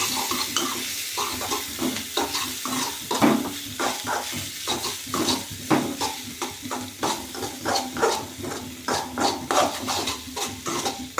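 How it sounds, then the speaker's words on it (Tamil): Carrots are sautéed in a pan for beetroot rice, a spoon scraping and tossing them in a quick, regular rhythm over a soft, continuous sizzle. "இது கொஞ்ச நேரம் வதக்கணும்"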